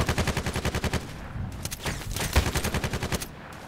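Automatic gunfire in the shooter game Contract Wars: a rapid burst of evenly spaced shots, a short lull, then another fast burst near the end. The shots are loud and close, with no talk.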